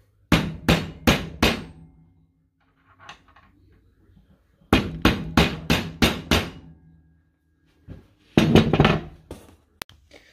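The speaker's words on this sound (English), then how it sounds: "Just take a flathead with a lot of surface area. And beat the dovetail back." A flathead screwdriver hammers a loose dovetail back into place in repeated bursts of sharp, close metallic strikes, three to six blows per run, separated by quiet pauses.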